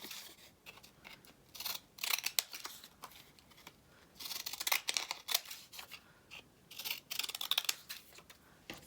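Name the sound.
scissors trimming a paper tag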